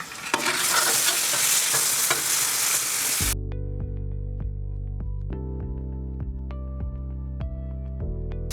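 Steak sizzles on a Blackstone griddle for a cowboy stir fry, a loud close hiss at first that drops to a steadier fry with repeated clicks and taps of a spatula on the flat top.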